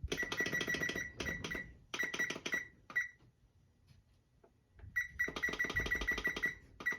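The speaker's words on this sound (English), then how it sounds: "Timer." A kitchen timer going off during sourdough bread baking, sounding in rapid bursts of electronic beeps separated by short pauses and a longer gap, fairly quiet and alone.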